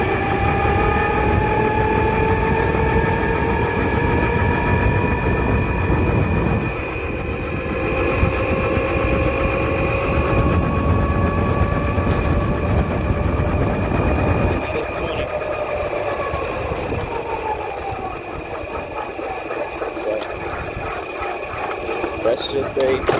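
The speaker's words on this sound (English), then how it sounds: "That's just a quick little ride video showing you guys how quick this thing moves." An electric X1 48V lithium-ion pocket bike whines steadily as it rides along, its motor pitch rising and falling with speed, a continuous close electric drone over wind and road noise.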